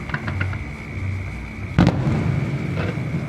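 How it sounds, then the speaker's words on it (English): Fireworks go off nearby with one sharp, loud bang partway through, while a steady background rumble and a few fainter pops and crackles run before and after it. No one speaks. "Sorry, just a minute for these fireworks."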